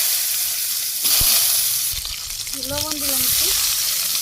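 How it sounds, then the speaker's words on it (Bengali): Dried red chilies and cumin seeds sizzle in hot oil as a tempering for a village-style lentil dish. The frying hiss is bright and steady and swells in places, and a person speaks briefly over it. "তেলে এসে গেছে, শুকনো লঙ্কার জিরা ফোড়ন দিয়ে দিলাম"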